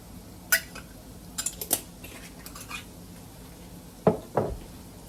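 A metal utensil scrapes and clinks against a pot of Cajun dirty rice during stirring, a few sharp taps early and two louder clinks near the end over a quiet kitchen background.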